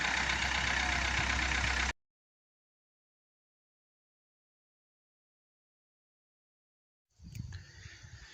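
A VW Golf 3 with a 1.9 TD engine and no intercooler runs loud and steady for about two seconds, then cuts to silence. Rougher, quieter engine noise returns near the end.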